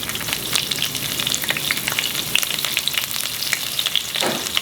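Sliced green chilies and curry leaves fry in hot oil, producing a loud, dense, continuous crackling sizzle with rapid pops throughout and a brief stir toward the end, no one speaking.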